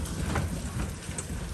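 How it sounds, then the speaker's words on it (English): Heavy hailstorm in Chesterville, Maine, pouring down with hailstones bouncing off a step, a dense, steady roar of close impacts with no talk over it. "We have a hailstorm."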